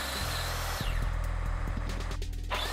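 Power drill driving pocket holes into wood pieces for a two-player pinball cabinet, a steady close whirring run with short pulses of rising and falling motor speed.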